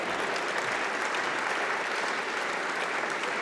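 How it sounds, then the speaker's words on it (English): At a tech conference, an audience gives continuous applause, a dense, even patter of many hands clapping at moderate volume for a few seconds without interruption. "How about a round of applause for the coat of Alicia and for Alicia?"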